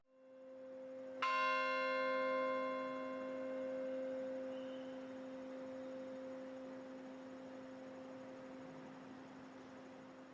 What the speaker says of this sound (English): We gather every year on September 11th to ring the bell of hope